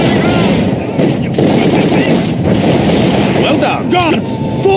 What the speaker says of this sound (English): Our headquarters under the enemy fire!